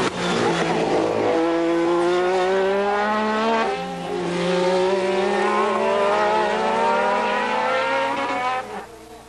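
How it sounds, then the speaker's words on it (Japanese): Racing cars on the final lap of a 1986 race in Japan roar continuously, their loud engine notes climbing and falling in pitch as they accelerate and shift, with several cars overlapping. "ラップ39、サックウェルが相変わらず1位を独走したまま最終ラップに入った"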